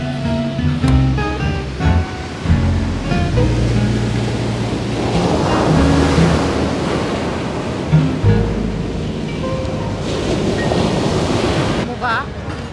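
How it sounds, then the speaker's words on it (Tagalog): Strong ocean waves crashing on the La Union shore, loud surging washes rising and falling under heavy wind buffeting on the microphone, with people talking over the surf. "Lakas ng alon."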